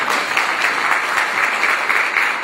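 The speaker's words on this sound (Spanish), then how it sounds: "Denle un aplauso a la palabra de Cristo Jesús." A church congregation breaks into loud, sustained applause honoring the word of Christ, a dense steady wash of many hands clapping together for a couple of seconds.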